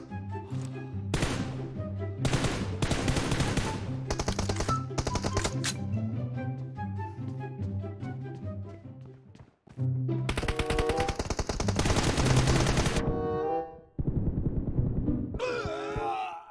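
Rapid automatic gunfire from the mobile shooter PUBG Mobile in a one-on-one team deathmatch, loud, dense bursts filling most of the stretch, broken by a short pause, then more heavy firing bursts with game music beneath.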